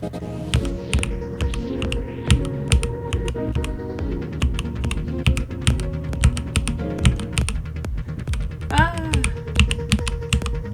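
Computer keyboard keys are pressed rapidly while playing the TechnoSorcery rhythm game, dense clicky taps over electronic game music with tonal sweeps, close and continuous.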